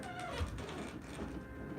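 A domestic cat gives a single short meow close by, over low room noise.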